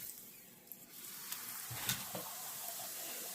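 Hot oil sizzling in a pan for calabasitas tacos at home, a faint steady hiss with a few soft pops and clicks of the pan over the span.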